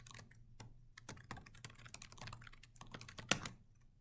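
Rapid keystrokes on a computer keyboard while entering an email address, a quick irregular stream of close, crisp clicks with no talking.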